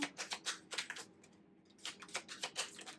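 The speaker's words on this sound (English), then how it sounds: "I know it's a lot of shuffling and stuff." Tarot cards are shuffled in quick, soft riffling bursts, with a brief pause midway before the shuffling resumes, close and faint with no talking.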